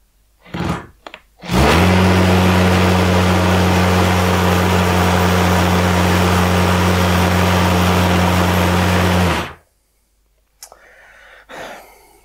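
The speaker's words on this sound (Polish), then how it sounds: "No i betonik. Przełączamy na udar, wiertło szósteczka." A Makita HP457DWE cordless drill in hammer mode bores into concrete with a 6 mm bit, a loud, steady, buzzing hammering roar lasting about eight seconds, with brief handling clicks before and after.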